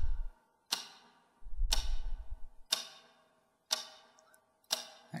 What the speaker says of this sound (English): That clock is quite loud.